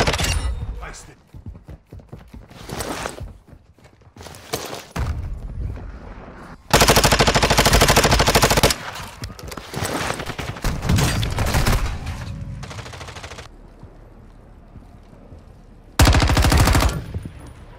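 Bursts of automatic gunfire in Warzone 2, sharp rapid volleys that come and go across the clip, some loud and close, mixed with shorter shots and someone speaking between the bursts.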